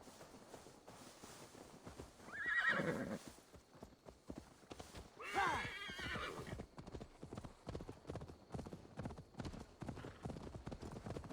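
A horse in the video game Assassin's Creed Valhalla gives two whinnying neighs over steady clip-clop hoofbeats.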